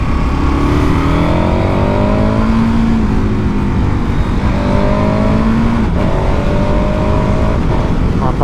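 KTM 1290 Super Adventure motorcycle accelerating hard: a loud engine climbing in pitch through several gears, each rising sweep cut by a quick shift, heard close and continuous.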